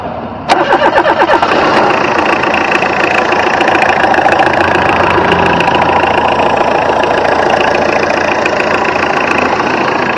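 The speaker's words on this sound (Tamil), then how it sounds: "வாங்க வண்டியோட இன்ஜின் சவுண்ட் எப்படி இருக்கு அப்படிங்கறத கேட்போம்." A Tata Indigo car engine cranks and catches at about half a second, then settles into a steady, loud idle with a slightly knocking, mid-pitched rumble that continues unbroken to the end, with no talking.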